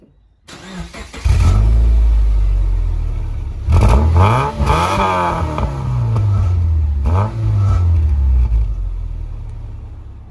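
Subaru Forester engine fitted with a $50 sports muffler, starting up then revving in several rising and falling blips over a steady idle, loud and close with a throaty tone and no talk.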